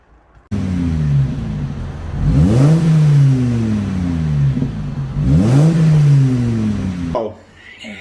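A 21-year-old Volvo V70 with a 2.5 litre petrol engine, straight piped, at 140,000 miles, revving loudly close by: two long swelling revs rise and fall over a deep exhaust drone, then the engine drops back to idle.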